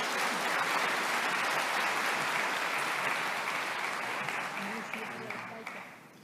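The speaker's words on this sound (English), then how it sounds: "a big round of applause to our first guest speaker today" A conference audience at an opening ceremony applauds a guest speaker, dense sustained clapping from a large crowd that holds steady and then fades out at the end.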